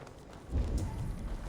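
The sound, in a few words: horse hooves clip-clopping in video game Assassin's Creed Valhalla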